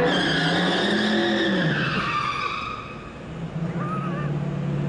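A 1969 Chevy Nova with a 383 engine does a burnout outdoors at Coast Packing Co in Vernon, its engine roaring loudly with a high tire squeal that sweeps down in pitch, dips briefly, then surges again.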